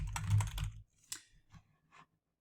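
Typing on a computer keyboard while entering a Google Slides presentation: a dense, close flurry of clicks, then a few scattered single keystrokes with quiet gaps between them.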